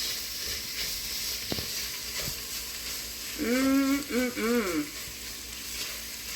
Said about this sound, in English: We're going to give that a stir together to let that tomato paste kind of break down. Let that garlic start to heat